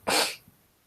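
A single short, sharp sneeze bursts out close by, followed by a faint breath.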